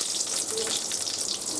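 Cinnamon, chillies and curry leaves frying in a pan for a pepper chicken kurma, giving a steady close hiss and crackle of hot oil that runs without a break.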